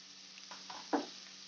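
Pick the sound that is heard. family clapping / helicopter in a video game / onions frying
onions frying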